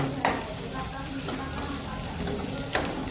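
Steady sizzle of food frying in hot oil, with a couple of brief stirring scrapes, close and continuous with no talk.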